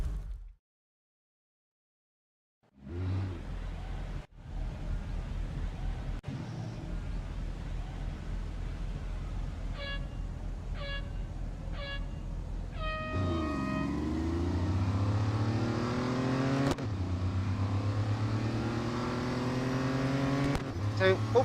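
An Audi Quattro B2 race car in the video game Real Racing 3 laps the Hockenheimring Grand Prix circuit after a brief silence, its engine droning steadily and climbing in pitch through the gears, close and continuous.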